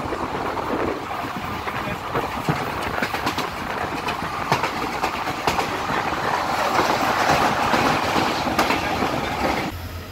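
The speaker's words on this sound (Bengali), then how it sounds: "ট্রেন এখন এসে পৌঁছলো তেলেম রেলওয়ে স্টেশনে" The 15813 Dekargaon-Murkongselek Express rolls along the line, a continuous loud rumble with rhythmic clickety-clack of wheels over rail joints and faint squeals, heard from on board.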